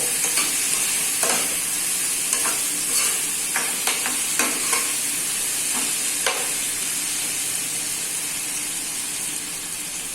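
Chicken pieces fry loudly in oil with ginger, garlic, salt and chili, a strong steady sizzle broken by scraping stirs of a utensil across the pan, with no talking.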